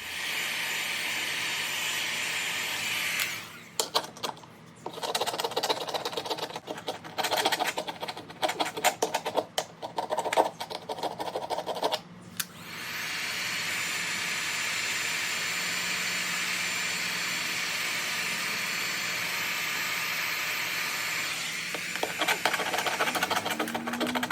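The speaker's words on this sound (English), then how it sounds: "you can leave the heat gun there for a little longer" Steady broadband blowing of a heat gun held on the aluminum exterior of a pop-up trailer, breaking off into a stretch of irregular scraping and clatter before the even roar resumes and runs to the end.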